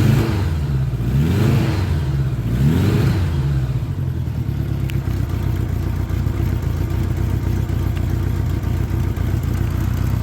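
A 1986 Honda GL1200 Interstate Goldwing motorcycle with a fuel pump problem revs up twice in quick swells, loud and close, then settles into a steady idle rumble with no talking.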